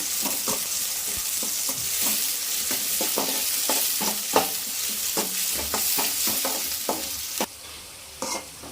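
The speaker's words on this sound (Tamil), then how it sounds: "வெட்டி வச்சுருக்க சின்ன வெங்காயத்தை அதில் சேர்க்கலாம் அது பொன்னிறமாகும் வரை கொஞ்சம் நல்லா வதக்கிக்கலாம்" Small onions sautéing in hot oil for a fish curry, a steady sizzle broken by repeated sharp scrapes and knocks of a stirring spoon against the pan, close and alone, quieter near the end.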